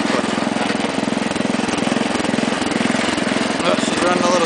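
A Wheel Horse garden tractor's small engine chugs unevenly at idle, running rough with a pulsing, irregular beat, close and loud throughout.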